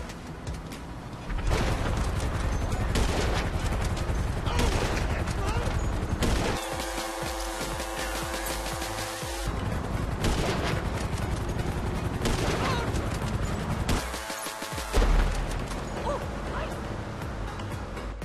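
Gunfire in GTA 5 Online during a solo casino mission, with shots and bursts cracking through a busy game soundscape and a few brief pauses between volleys.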